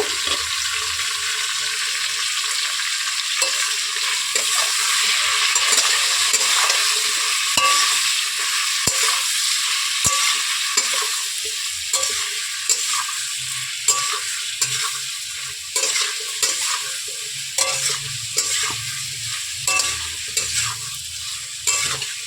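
Turmeric, salt, cumin-coriander powder and chili powder fry in hot oil for a rohu fish curry, giving a loud, continuous close sizzle broken by repeated scraping stirs, with no talking.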